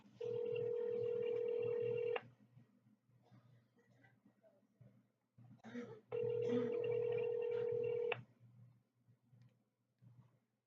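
A phone rings twice through a handset speaker while a call to a friend is placed, each long steady electronic ring lasting about two seconds, with faint room noise and soft movement between rings.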